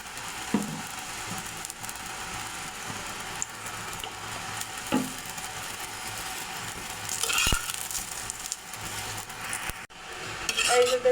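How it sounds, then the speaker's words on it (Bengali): Oil goes into a pan where a stuffed beetroot-and-potato paratha is frying, giving a soft steady sizzle with scraping and clinking of a utensil against the pan, including a louder burst near the end. "এখন তেল দিয়ে দেব।"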